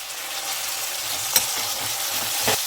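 Chopped capsicum tipped into a hot frying pan with cooked onion for bisibele bath, a steady loud sizzle with a couple of soft stirring knocks and no talk.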